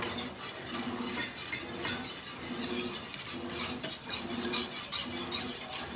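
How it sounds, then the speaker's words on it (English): A whisk scrapes and stirs gravy in a pan, continuous rhythmic swishing and light metallic scraping, close up and steady over several seconds with no talking. "Keep whisking and stirring, and your gravy should thicken up."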